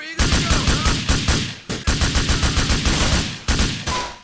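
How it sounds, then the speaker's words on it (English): Enemy gunfire in Grand Theft Auto IV, loud rapid automatic bursts of shots in quick rhythmic volleys, close and continuous with brief gaps between bursts. "how enemies still try to shoot even while they just got shot"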